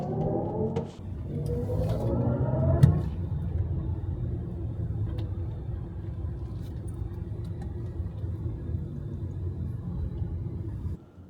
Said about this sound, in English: We've got sport mode, obviously. It makes a fun noise.